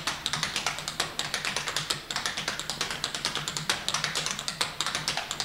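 Tap dance steps on a hard floor, with a shuffle taking the place of the right toe: rapid, sharp, close taps in a steady rhythmic stream of clusters, heard alone with no talking.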